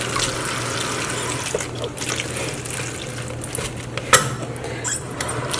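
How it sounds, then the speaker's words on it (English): Water being added while cooking moi moi, a running trickle and splash into a container, steady and close, with a brief sharper clink near the end. "add some water"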